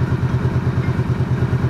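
Honda VT125 Shadow motorcycle engine idling once warmed to operating temperature, a steady, loud, even low throb with rapid regular pulses and no voices.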